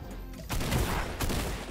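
Fortnite double-barrel shotgun shots in gameplay, a close loud blast followed by a second burst about a second later, with reverberant game noise between them.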